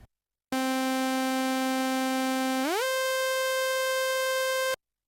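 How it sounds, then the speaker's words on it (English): A bright, buzzy synth note with portamento holds steady, then slides smoothly upward to a higher note over a fraction of a second and sustains before stopping abruptly; loud and alone, no voices. "Now you can hear the tone glides from one note to the other smoothly."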